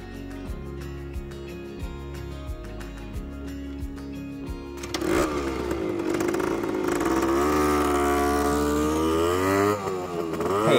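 A 1972 Yamaha DT100 two-stroke motorcycle engine idles with a rapid, buzzy putter, then revs up into a louder, rising drone that holds steady.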